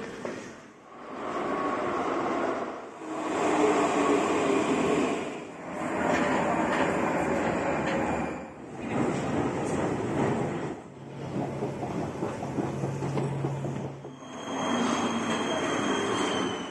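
A Prague metro train at Háje station rumbles and roars in repeated loud surges with short quieter gaps between them. The sound is close and fills the space, with a brief tonal whine near the end. No one speaks.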